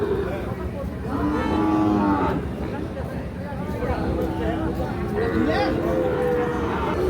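Sahiwal bull calves, about seven months old, at a busy cattle market, mooing several times, loud and close, over a constant crowd murmur and voices.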